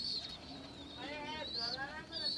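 Domestic pigeons in a home loft where pairs have hatched chicks: soft low cooing and scattered chirps run steadily throughout, mixed with faint voice-like murmuring.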